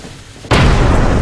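A grenade explodes in the video game Content Warning, a single loud, close boom that cuts in abruptly and rumbles on.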